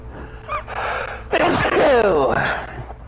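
A loud sneeze bursts out near the middle, preceded by a sharp inhaled gasp and mixed with voices, close to the microphone.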